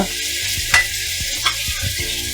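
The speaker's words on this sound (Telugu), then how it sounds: "ఆ మిశ్రమం వేసి వేపుకోవాలన్నమాట" Onion, green chili and cashew paste sizzling in a hot pan, with a steady hiss broken by several soft scrapes and taps of a spoon stirring it.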